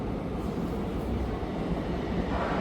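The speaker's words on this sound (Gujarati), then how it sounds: "આ મેટ્રો આવી ને ત્યાં જશે." A Bucharest metro train pulls into a station with a loud, continuous low rumble and rolling rail noise that fills the whole short stretch.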